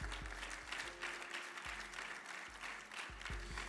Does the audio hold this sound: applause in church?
yes